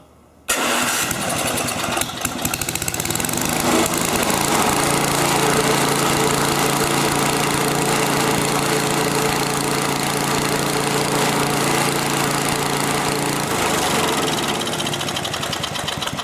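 A Tecumseh small engine with electric start and a rebuilt diaphragm carburetor cranks and catches almost at once. It then runs loud and steady at close range for the rest of the time, slightly rich, with a slight pitch dip near the end.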